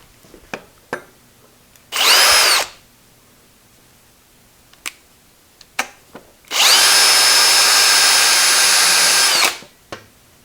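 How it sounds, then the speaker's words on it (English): Spotting drill boring a center hole in metal on a rotary table fitted with a Vevor 3-jaw chuck, two loud bursts of whirring cutting, a short one then a longer run of about three seconds, separated by quiet clicks and taps. "And now I'm going to drill a center hole there, just to mark the hole. I got a spotting drill in there."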